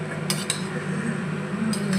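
A spoon or spatula scrapes and clinks against a pan while mushroom fried rice is being mixed, with a few sharp metallic taps over a steady low hum, close and fairly quiet.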